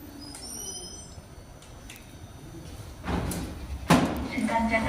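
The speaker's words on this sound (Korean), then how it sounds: "이제 1호선 열차에 승차합니다." Boarding a Seoul Line 1 subway train at Taepyeong station: a low platform rumble with faint clinks, then louder door and carriage thuds, including a sharp clunk of the doors partway through.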